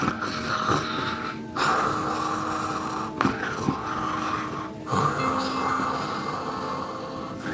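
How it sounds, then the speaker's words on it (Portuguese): Heavy, raspy wheezing breaths fill the stretch in about four long, drawn-out inhales and exhales, close and loud with no talking. "uma respiração assim"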